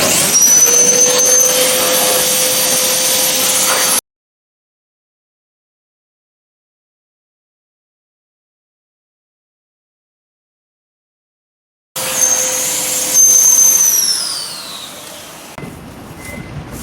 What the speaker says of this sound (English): And use this pump, change it to this size, and turn it on.